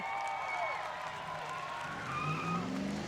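A car doing a burnout at a New Smyrna burnout contest roars and screeches steadily at a distance, with a crowd faintly audible beneath the engine.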